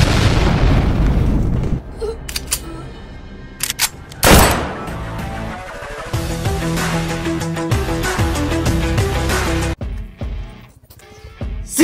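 A bomb blows up in a tense dramatic scene: one loud, deep blast bursts out near the middle, with a sharp crack at the start, all layered over a dense, continuous music-and-effects bed.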